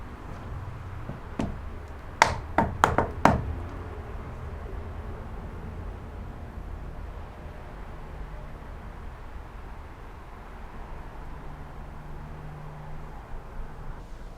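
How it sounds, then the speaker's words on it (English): Several sharp knocks on wood in a quiet horse barn, a quick cluster of about four or five close raps followed by a low steady background hiss and no reply. "I'm actually going to knock on the wood."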